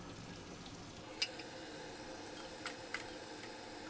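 Chopped green chillies frying in a pan for chicken yakhni pulao give off a faint, steady sizzle. A few soft ticks and clicks from stirring come through, and the sound stays quiet and close.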